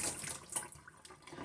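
Water runs from a tap over the washable filter of a handheld wet and dry vacuum, a steady close splashing rinse with brief louder gushes throughout.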